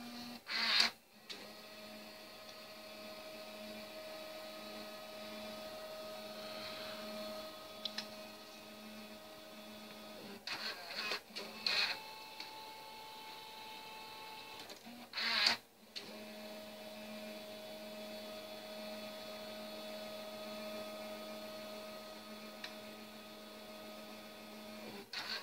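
An older-model Canon photo printer prints stickers, running a steady mechanical hum with a few louder clicks and clunks at intervals across the run.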